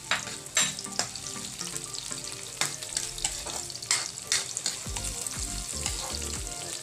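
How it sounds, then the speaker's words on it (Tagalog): Sliced onions sizzle and fry in a hot pan for Filipino classic-style chicken adobo, a steady loud crackle with occasional stirring scrapes and spatters throughout. "Lalagay natin sibuyas."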